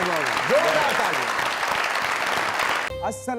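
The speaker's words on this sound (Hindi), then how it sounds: "जोरदार तालियां।" A studio audience at a comedy show breaks into loud, sustained applause, with a voice briefly audible over the clapping at the start.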